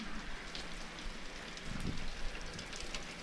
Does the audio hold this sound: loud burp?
no